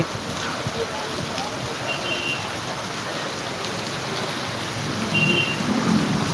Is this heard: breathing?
no